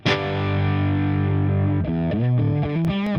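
An electric guitar with heavy distortion is played through a Line 6 Helix and captured with an SM57 microphone, a bright sustained chord ringing loud and alone before a few quick chord changes.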